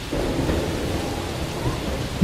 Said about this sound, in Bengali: অনেকক্ষণ ধরেই একটানা বৃষ্টি পড়ছে। ঝমঝমে বৃষ্টির শব্দ শুনতে শুনতে নেশা লেগে যায়।